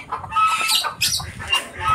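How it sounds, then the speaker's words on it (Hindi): Chickens cluck and squawk close by in a farmyard pen, dense overlapping calls with a few sharp higher cries throughout, no talking. "ये देखिए सारा मुर्गी बकत इधर"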